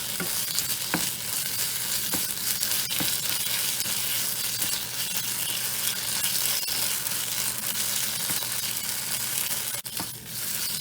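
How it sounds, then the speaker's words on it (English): Cardamom pods and cloves crackle in a cooking onion masala for a quick chicken fry, a dense, steady close sizzle lasting several seconds with occasional scraping stirs and small pops, and no voices. "I'm going to add in the cardamom pods and cloves now."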